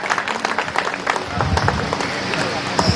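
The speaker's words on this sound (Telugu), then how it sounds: "సార్కి ఒకసారి క్లాప్స్ కొట్టండి సార్ ఉపన్యాసానికి." At a school alumni get-together, an audience claps after a speech, dense applause that swells and continues steadily for a few seconds, with voices audible underneath.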